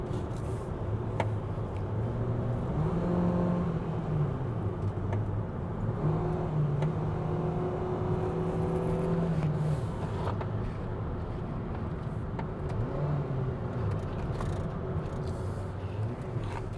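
A 2021 Mitsubishi Xpander MPV accelerates along a winding B road, its engine note climbing and dropping steadily as it is pushed through the bends in automatic, heard from inside the cabin at a moderate, continuous level.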